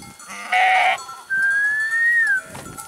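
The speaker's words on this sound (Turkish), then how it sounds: "Şöyle hep koyunlar da gidiyor bizimle birlikte." Sheep bleat nearby as a flock moves along with people on a mountain pasture route, giving one short bleat and then a longer, drawn-out call over faint background noise.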